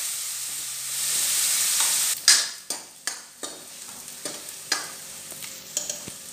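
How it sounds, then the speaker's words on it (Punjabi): Onions deep-browning in hot oil for soya keema, a loud hiss that swells and then gives way to a run of sharp, rhythmic spatula scrapes and stirs over a softer sizzle, close and with no talking. "ਪਿਆਜ਼ ਨੂੰ ਡੀਪ ਬਰਾਊਨ ਕਰਨਾ ਆ, ਕੱਚਾ ਬਿਲਕੁਲ ਨਹੀਂ ਛੱਡਣਾ"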